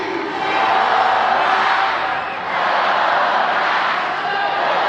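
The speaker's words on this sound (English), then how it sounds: "The donut chants still reverberating throughout JetBlue Park" Savannah Bananas crowd at JetBlue Park in Fort Myers, Florida, chanting in unison during a baseball game, a loud sustained roar of many voices that swells, dips briefly and surges again.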